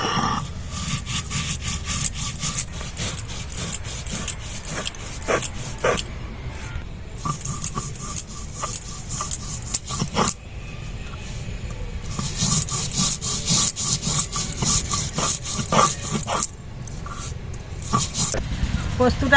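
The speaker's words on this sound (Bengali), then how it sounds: "পোস্তটা আমি বেটে নিচ্ছি।" Poppy seeds are ground into paste on a traditional grinding stone, a continuous rough scraping and rubbing with rhythmic back-and-forth strokes. A voice speaks over it now and then.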